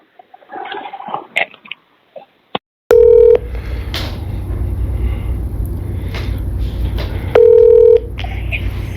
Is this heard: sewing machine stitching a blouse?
no